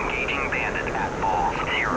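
JF-17 fighter jet in afterburner at 12,000 feet and 400 knots in an air-combat video game, a steady, loud engine roar with shifting tonal whine, a voice talking over it.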